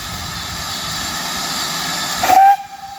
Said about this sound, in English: There's a Prairie steam engine, guys, so it's just watered up.